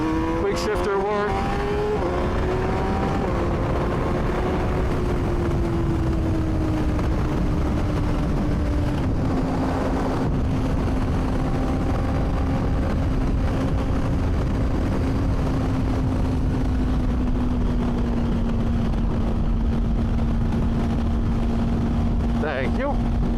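A 2024 Honda CBR600RR motorcycle engine revs up and holds a steady, loud drone close by, with a brief dip in pitch mid-way as the quick shifter shifts from first to second gear.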